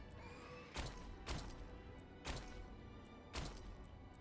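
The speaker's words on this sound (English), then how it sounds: "we gotta go change my horse" A horse mount in World of Warcraft neighs and whinnies four times in sharp, bright bursts spaced about a second apart over a steady game background, with clip-clop hooves mixed in.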